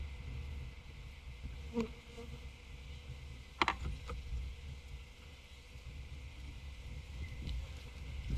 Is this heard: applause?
no